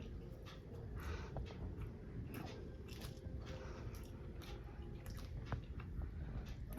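Close, wet chewing of soft parotta with a piece of beef, steady squishy mouth sounds and faint crunches that repeat through the clip with no talk.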